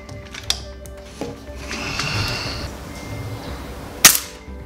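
A high-power .177 air rifle fires an H&N Field Target Trophy 8.64-grain pellet, giving one sharp, loud crack near the end, with fainter clicks and handling noise earlier and no talking.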